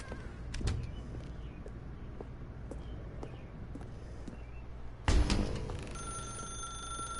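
A telephone rings in The Stanley Parable video game, a bright ringing burst that starts suddenly partway through and continues as a sustained electronic tone over faint background noise, preceded by a few clicks.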